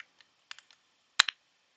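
Sparse keystrokes on a computer keyboard, a handful of crisp separate clicks close by with a quicker double tap near the end, otherwise quiet, no voices.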